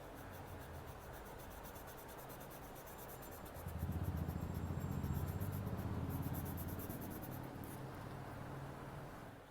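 Pencil blending and shading on paper for a Zentangle drawing, soft continuous rubbing and scratching that grows louder midway and then eases, close and quiet with no talk.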